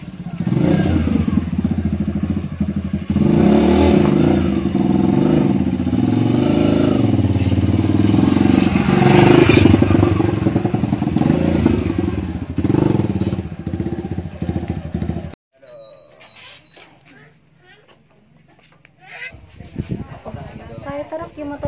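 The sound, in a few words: KLX motorcycle engine revving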